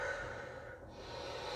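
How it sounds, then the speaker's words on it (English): Deep breath drawn during a yoga session, a soft, steady airy exhale and inhale close to the microphone, faint and unaccompanied by talk. "We breathe deep."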